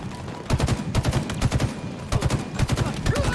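Rapid bursts of automatic gunfire from the Halo Infinite video game, played on PC, come in repeated volleys of quick shots, loud and close, with brief pauses between bursts.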